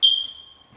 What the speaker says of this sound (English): Familiar chirping of the low battery and the smoke detectors.